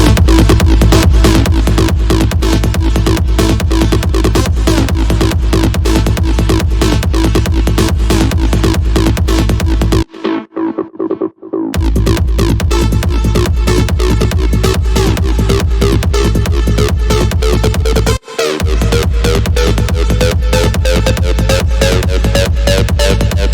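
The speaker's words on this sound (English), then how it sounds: "Kick, bass, and the leads for the second drop, they sound like this." A future rave drop plays loud and driving, with a steady four-on-the-floor kick, a pumping bass and bright synth leads. The beat pauses briefly partway through and cuts out again for an instant near the end.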